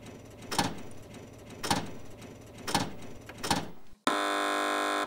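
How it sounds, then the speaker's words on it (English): An electronic quiz show buzzer sounds as a steady, loud tone about a second long, coming just after a run of regular rhythmic pulses. No voices are heard. "Fingers on buzzers, team."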